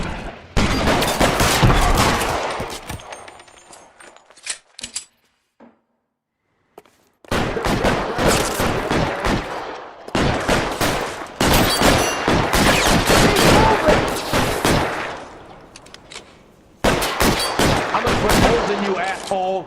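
Gunfire in L.A. Noire, loud sustained rapid-fire bursts and shots in long volleys separated by short silences, close and dominant throughout.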